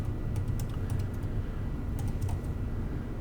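Quick bursts of clicky typing on a computer keyboard, two short clusters of keystrokes heard close and fairly quiet.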